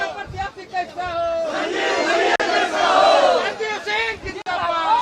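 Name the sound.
crowd of election supporters cheering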